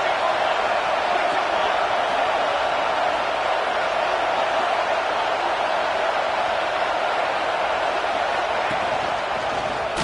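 Steady, dense stadium crowd roar from a college football game in NCAA 26, loud and unbroken throughout with no distinct peaks.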